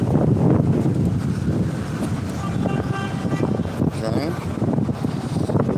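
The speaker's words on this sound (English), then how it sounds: "It's getting windy out here." Gusty wind buffets the microphone in loud, rough bursts on a dusty side street in Durban city center, South Africa, with a faint horn-like tone briefly audible in the background.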